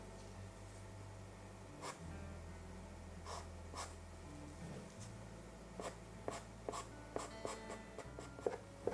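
A pastel pencil, a Brunswick light orange, scratching over paper in soft repeated strokes, faint and close, with sharper quick scratches clustering toward the end.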